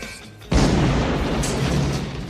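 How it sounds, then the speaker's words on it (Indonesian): A cannon fires a flare shot: a single sudden deep boom bursts out and rolls on with a sustained rumbling roar, loud and close. "menembakkan peluru pertama berupa suar sebagai peringatan"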